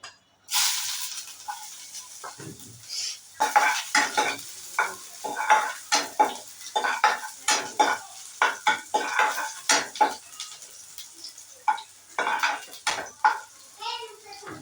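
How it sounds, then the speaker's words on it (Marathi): Garlic and ginger sautéing in a little oil for a soya chilli dish, heard as a run of scraping, clattering stirs against the pan over a soft sizzle, close and busy throughout. "तर लसूण आणि आलं मिनिटभर परतून घेतलं"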